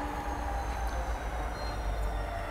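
A train rumbles steadily through Phulera Junction, a large railway station with a diesel locomotive shed, giving a continuous low rolling drone with faint wheel squeal and hiss above it, close and unbroken, with no voices.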